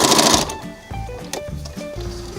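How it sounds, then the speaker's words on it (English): A sewing machine runs a basting stitch half an inch from a fabric edge for a lined floral basket, its motor whirring in short bursts and pauses, close and moderately loud. "We're sewing a basting stitch about 1/2 inch in from one edge"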